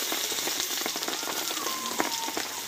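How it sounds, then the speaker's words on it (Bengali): Potato stalks and chopped tomato with salt sauté in a pan for a Bengali niramish tarkari, giving a steady close sizzle and crackle with scattered popping pops throughout, no voices. "এই লবণটা দিয়ে আমি আবারও কিছুক্ষণ কষিয়ে নেবো, যাতে টমেটোটা কিন্তু কষতে কষতে গলে যায়"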